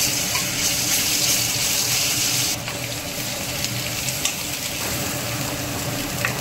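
A paste of garlic, cumin and ginger fries in oil for a bitter gourd dish, making a loud, constant sizzle that drops slightly in brightness halfway through and keeps going steadily.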